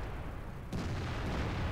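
A tank cannon fires in the World of Tanks video game, one sharp boom partway through followed by a rumbling low tail over steady engine-like background noise.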